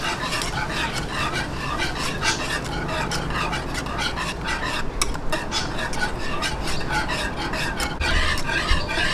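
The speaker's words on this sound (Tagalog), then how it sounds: "tuloy lang po yung halo" Butter being stirred into a thick cake filling mixture for a no-bake graham Boston cream cake, a steady run of utensil scraping and soft clinking against the bowl, close and continuous without voices.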